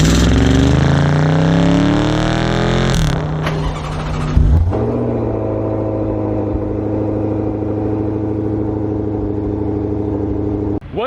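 A 2019 Dodge Charger 392 V8 roars close up through a hard rev that climbs, cuts off near three seconds, then blips again and settles into a loud, throbbing idle for the rest, with no speech.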